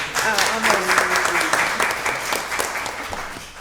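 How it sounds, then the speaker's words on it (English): People at a county board of commissioners work session applaud a commissioner's birthday, with a short burst of clapping mixed with voices and chatter. "Y'all give her a round of applause"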